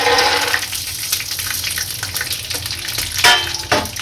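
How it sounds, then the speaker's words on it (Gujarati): Peanuts drop into hot oil for crispy potato pancakes, giving a loud, hissing sizzle with scattered crackles and pops that rises again near the end. "આપણું તેલ ગરમ થઈ ગયું છે, આની અંદર હવે સિંગદાણા નાખીશું"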